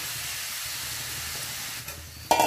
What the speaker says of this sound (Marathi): आता लगेच आपण ही भिजून घेतलेली डाळ घालणार आहोत।